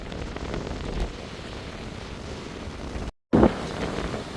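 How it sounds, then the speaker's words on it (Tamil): Strong wind gusting along a rough seashore under stormy skies, a steady loud broadband roar with a brief dropout near the end before the blustering resumes, no voices. "இந்த காற்று வந்து பலமாக அடிச்சு கொண்டிருக்கீங்க."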